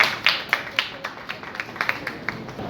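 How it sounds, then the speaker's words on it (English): A small audience at a Governor's book-release event at Raj Bhavan claps in sparse, distinct strokes that thin into a scattered rhythm, fairly close and without speech. "really give him a big applause"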